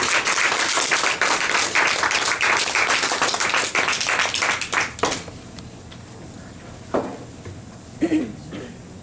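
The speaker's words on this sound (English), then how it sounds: "give a round of applause to Speaker Wayne." An audience applauds a speaker, with dense clapping for about five seconds that stops abruptly, then a few faint scattered sounds.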